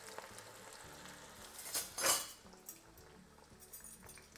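Courgette and onion pakoras frying in oil, a faint low sizzle with a couple of sharp utensil clinks and scrapes near the middle, all quiet and with no talking.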